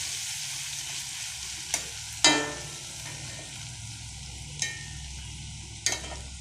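Garlic paste and ginger paste fry in a pan with a continuous close hiss, broken by four sharp scraping taps of a spoon or spatula against the pan at uneven intervals, with no talk.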